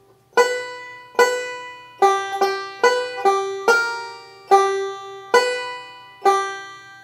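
A banjo picks a lick, about a dozen bright, sharply plucked notes in an uneven rhythm, each ringing briefly, played close and alone.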